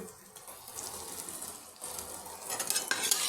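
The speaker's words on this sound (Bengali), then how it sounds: "এখন এই সব কিছু হালকা করে একটু ভেজে দেবো" Spices and grated ginger fry in mustard oil for biulir (kalai) dal, a steady sizzle with spoon stirring that grows louder and brighter toward the end, no talking.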